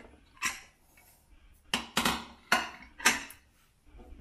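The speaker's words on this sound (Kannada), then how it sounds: "ಇವಾಗ ಕುಕ್ಕರ್ ಓಪನ್ ಮಾಡ್ತಾ ಇದ್ದೀನಿ" A pressure cooker lid holding basmati rice pulao is opened after two whistles, giving several sharp metallic clanks and clicks spaced unevenly, close and fairly loud, with quiet gaps between.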